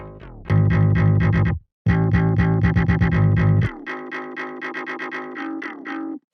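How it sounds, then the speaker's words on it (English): A distorted synthesized bass layered over deep sub bass pounds out rapid repeated notes, drops out briefly, then returns before moving into a lighter, bouncier pattern of short stabs. "So that's a really nice bass sound, and it just layers up with the sub bass."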